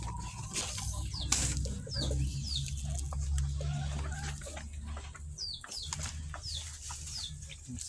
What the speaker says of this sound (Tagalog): Yung mga manok nag-aantay.